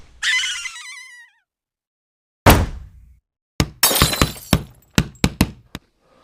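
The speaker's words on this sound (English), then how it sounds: "some super loud bangs on the attic lid" Several loud, sharp bangs strike an attic lid indoors, an isolated heavy thud followed by a rapid irregular cluster of hard knocks, preceded by a brief higher sound.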